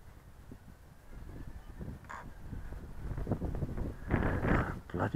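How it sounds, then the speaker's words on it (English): Gusty wind buffets the microphone outdoors in Richmond Park at night, with gusts of 10 to 15 mph producing a low, rumbling roar that swells and builds stronger toward the end. "Bloody wind is coming from another direction now"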